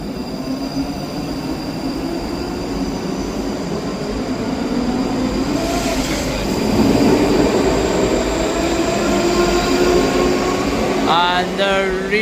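Scotrail train pulling out of Edinburgh Haymarket for Helensburgh Central, a loud continuous rumble of engine and wheels building as it moves off, with a rising whine and squeal near the end.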